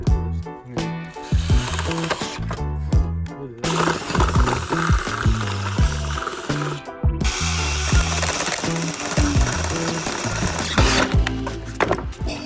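A power tool enlarges bolt holes in metal brackets during an air-ride suspension fit on an 80s supercar. The loud, sustained grinding and hammering comes in long stretches with brief pauses.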